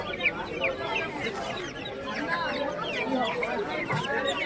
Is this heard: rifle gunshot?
no